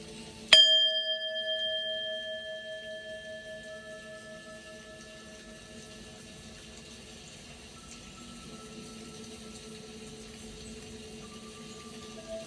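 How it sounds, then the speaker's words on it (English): A small bell is struck once to clear energy during a tarot reading, a bright ring that decays slowly into a long sustained hum, alone with no talking. "ring this bell"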